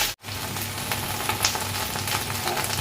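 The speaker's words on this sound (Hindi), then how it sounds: "अच्छे से फ्राई करेंगे इसको, भिंडी को।" Okra sizzles and fries steadily in a pan along with onion and potato, a continuous close crackling hiss that runs the whole time after a brief dropout at the start.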